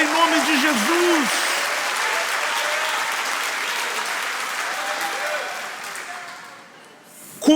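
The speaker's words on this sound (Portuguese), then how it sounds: "Começa a dar uma salva de palmas ao Senhor." A church congregation claps steadily, with a voice heard over the start, and the sound fades toward the end before a brief sharp noise.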